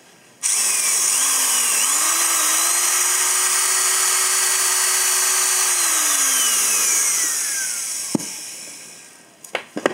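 A handheld Japanese domestic-market 100 V power tool runs at slow speed, about 500 rpm: it starts abruptly, holds a steady whining motor hum with small pitch shifts, then winds down, followed by a few clicks and taps.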